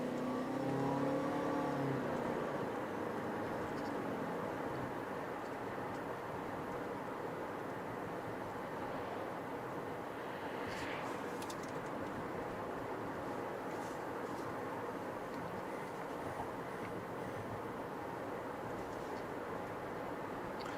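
A 2021 Toyota Venza Hybrid accelerates in sport mode, heard from inside the cabin as a quiet, steady drone of engine and road noise that swells slightly, with no talking.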